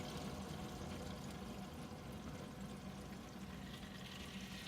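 Water from a water maker rushes and pours continuously with a soft, even flow, faint and unbroken for a few seconds.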